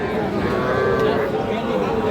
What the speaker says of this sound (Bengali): শাহিওয়াল জাতের ষাঁড় বাচ্চা